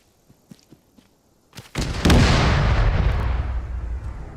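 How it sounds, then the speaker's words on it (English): A mortar round explodes with a loud, close boom during combat medic training. Faint shouts and small pops come first, then a long, rumbling decay trails off. "Be advised, incoming mortars from the east."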